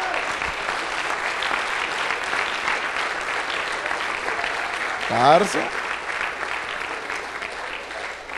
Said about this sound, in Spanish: ¿Cuántos aplaudan el nombre del Señor?